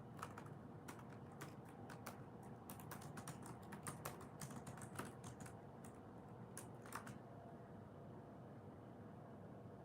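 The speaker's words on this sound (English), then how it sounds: "just typing a message real quick" Quick, irregular bursts of typing on a computer keyboard: close, faint clicks over a low steady background hum, with no talking.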